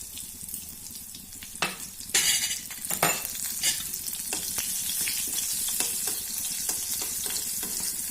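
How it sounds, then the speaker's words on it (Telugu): Crushed garlic cloves and urad dal fry in a pan for bitter gourd stir-fry, hissing steadily and loudly with repeated scraping stirs of the spatula throughout and no talking. "వెల్లుల్లి తర్వాత మినపప్పు అయితే వేగింది"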